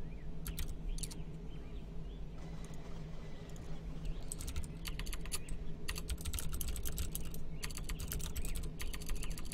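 Fingers tap on a computer keyboard during a live gaming stream, quick clustered bursts of crisp clicking keystrokes with short pauses between, close up over a low steady background hum.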